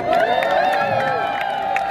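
Concert crowd at a show at Taipei City Hall: steady cheering and clapping with shouts and whoops, under a loud sustained tone and a voice on the PA.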